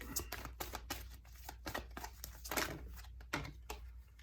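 A deck of tarot cards is shuffled close by, a quiet run of rapid papery riffles and taps with no talk.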